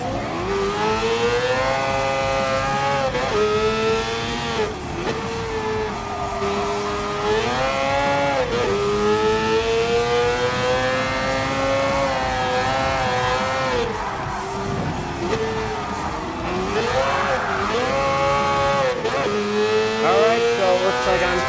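A Mazda 787B rotary race car screams through gears in Gran Turismo Sport, a loud, continuous high-pitched engine wail rising and dipping with shifts and braking throughout, with no talking.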